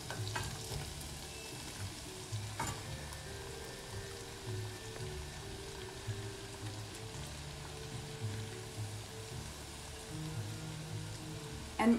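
Mushrooms fry in butter in a pan with a steady, close sizzle and crackle throughout, occasional stirring scrapes, no talking.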